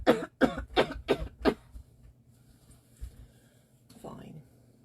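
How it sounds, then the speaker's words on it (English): A person doing a home covid test coughs into a tissue: five quick, close coughs in a row, followed by quiet and a faint soft rustle near the end. "Cough into a tissue."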